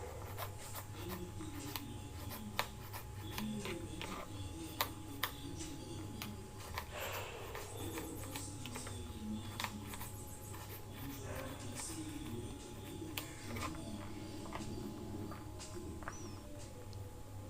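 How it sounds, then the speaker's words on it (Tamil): A knife cuts through peeled snake gourd into half-ring pieces, making a string of sharp, light taps and clicks on the board at an uneven pace over a steady low hum, close and moderately quiet. "ஃபஸ்ட்டு புடலங்காயை லைட்டாக தோல் சீவிட்டு இந்த மாதிரி கட் பண்ணிக்கோங்க."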